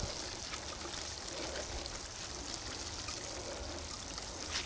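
A watering can fitted with a rose spout sprinkles water over a bed of salad, radish and cabbage seedlings, giving a steady, close hiss of trickling droplets that runs unbroken for the whole stretch with no talk.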